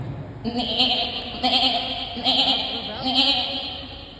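A person imitates a lamb, bleating four times in a wavering, nasal voice at a steady pace, close and clear.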